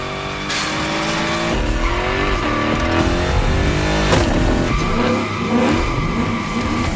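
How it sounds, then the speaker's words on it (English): Car spinning victory donuts in The Crew Motorfest racing game, engine revving hard with repeated tire squeals and skidding, loud and continuous with rising and falling pitch. "that's what we call victory donuts"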